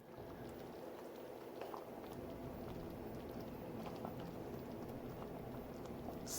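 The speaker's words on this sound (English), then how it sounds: "I'm gonna let this simmer for another 10 minutes" Stew peas simmer in a pot, a soft steady bubbling and gentle patter, faint and continuous with no talking.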